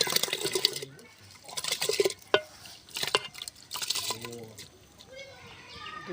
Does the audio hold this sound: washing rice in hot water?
yes